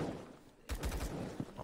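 Sniper gunfire in a Roblox shooter game: a sudden burst of several rapid, punchy shots after a quiet stretch, followed by a fainter single report, loud and close.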